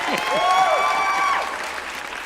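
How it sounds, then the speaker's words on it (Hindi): Applause at a Hindi poetry gathering (kavi sammelan), loud and sustained, with voices whooping and calling out over the clapping before it eases off. "बहुत तालियां यार, बहुत तालियां।"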